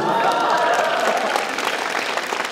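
Audience applause at a talk concert in Daegu, a dense, steady clapping from a crowd that holds loudly throughout, with faint voices mixed underneath.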